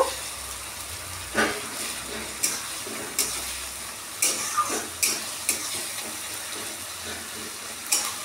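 Chili and garlic paste fries in oil in a pan, a steady sizzle broken by repeated scraping strokes of a spoon stirring it, close and fairly quiet, with no talking.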